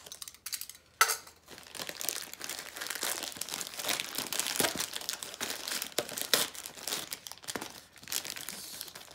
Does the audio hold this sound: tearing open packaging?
yes